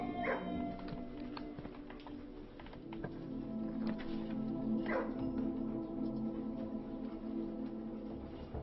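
A dog in the video game Blue Prince gives a couple of short yips and whimpers over a busy, steady game soundscape with faint bird-like chirps, moderately loud and brief.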